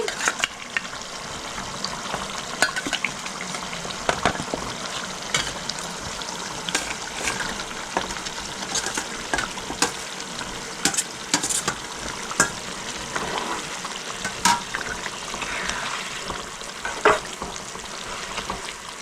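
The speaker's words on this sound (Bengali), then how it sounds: "ঝোলটা ফুটে গেছে, আমি শঙ্কর মাছগুলো দিয়ে দিচ্ছি।" Stingray pieces drop into a boiling Bengali fish curry, which sizzles and bubbles close up for a long stretch, with sharp clinks and scrapes of a spoon against the pan and no voices.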